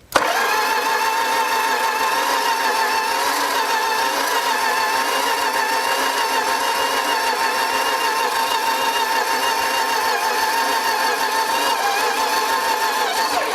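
A 1968 Plymouth Valiant engine that has sat for 40 years catches and runs, holding a steady, busy idle with a fast mechanical chatter, loud and close, with no talk over it.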